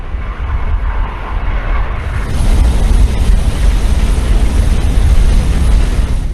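Boeing E-3 airborne warning aircraft, a 153-foot four-engine jet, flying overhead with a loud, steady low engine roar that swells and stays constant, with no voices.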